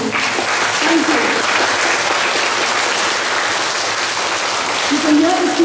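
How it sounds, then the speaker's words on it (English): Students at a school exhibition clap loudly and continuously, dense applause from a large crowd close by, holding steady the whole time with a brief voice or cheer rising near the end. "You can hear the students clap very loudly."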